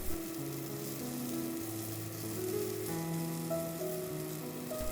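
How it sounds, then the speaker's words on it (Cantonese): Chicken wings pan-fried in a flat frying pan, a steady soft sizzle and crackle with a faint tonal hum underneath and no voices. "雞翼焗住嚟煎會快啲熟"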